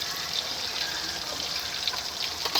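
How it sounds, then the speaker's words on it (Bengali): A little water poured into a curry masala of tomato paste, yogurt, turmeric and salt, a steady soft trickle and splash running throughout at close range. "এখন অল্প করে জল দিয়ে দিচ্ছি"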